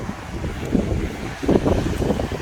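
Waves rumble and wash against the shore in broad surging bursts, mixed with gusty wind buffeting the microphone; no voices.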